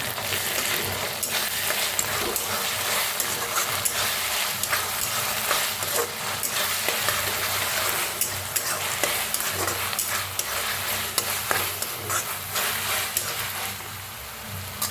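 Chili sauce sizzling and frying in a hot pan, a steady dense crackle with occasional stirring scrapes, close and continuous with no talk.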